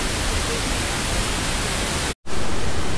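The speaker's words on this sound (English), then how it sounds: "The main waterfall." Mae Sa waterfall in Doi Suthep-Pui National Park, Thailand: a steady, loud broadband rush of falling water close by, cut by a brief gap of silence near the end before the roar resumes.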